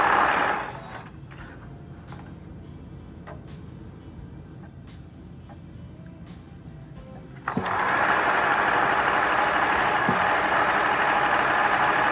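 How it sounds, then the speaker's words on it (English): A sewing machine stitching through bulky fabric for a thrift-store Christmas decor makeover, with soft ticking at first, then a loud, steady motor whir and needle drone from about midway to the end. "we're going to sew this. We're going to lock our stitch in. This is a bulkier fabric"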